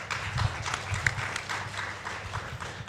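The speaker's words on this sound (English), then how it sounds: "So let's give applause to Professor Hasbullah." Audience applause at a conference session on digital transformation for rural, village and maritime areas, steady clapping from a crowd at moderate distance, with no voice over it.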